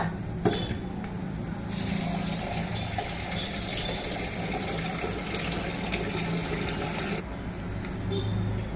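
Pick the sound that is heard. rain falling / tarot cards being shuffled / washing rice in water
washing rice in water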